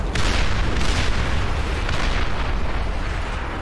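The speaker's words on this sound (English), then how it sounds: "Incoming missiles." Missiles slamming into targets in the real-time strategy game Beyond All Reason, a loud continuous wash of booming impacts and rumbling explosions with several overlapping bursts and no pauses.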